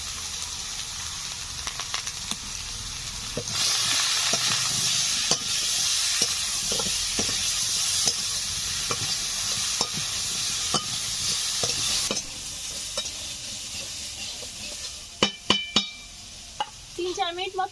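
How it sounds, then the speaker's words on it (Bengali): Bhola fish frying in oil with ginger, green chilli paste, turmeric and salt while being stirred, a steady close sizzle with scraping stir strokes and a few sharp clinks of the spatula near the end. "তিন 4 মিনিট মতো নেড়ে চেড়ে নিয়েছি, একটু ভাজা ভাজা হয়েছে।"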